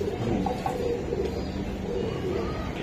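Racing pigeons at a high-flying pigeon market in Old Dhaka, soft low cooing repeating under a busy crowd murmur.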